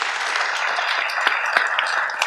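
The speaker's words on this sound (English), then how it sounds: "everybody give the panel a round of applause" Applause from a conference audience for a panel, a moderate wash of clapping that stays steady throughout with a few sharper individual claps standing out.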